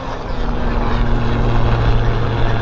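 A Helijet helicopter passes overhead near Vancouver International Airport, its steady rotor and engine drone loud and continuous with a low tonal hum throughout, no talking.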